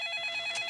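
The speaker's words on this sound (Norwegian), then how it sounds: "Mobiltelefonen til pappa ringer." A mobile phone rings in a Peppa Pig cartoon, a bright electronic ringtone with steady repeating pulses, clear and alone for a brief moment.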